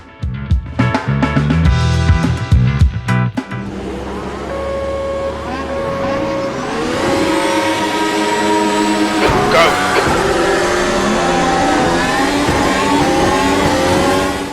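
Race cars launching off the grid in the Automobilista racing game: engines rev hard and climb in pitch through gear changes as the field pulls away, loud and close, with a commentator talking over it.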